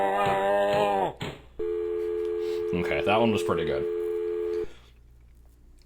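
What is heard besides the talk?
telephone prank call sounds, from video game Homestream Watcher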